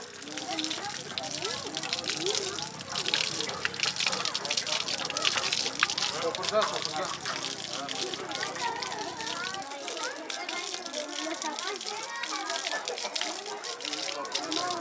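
Water gushing and splashing from a hand pump at a village well in South Turkestan, a steady close wash of pouring water with children's voices and chatter mixed throughout.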